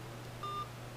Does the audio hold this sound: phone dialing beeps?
yes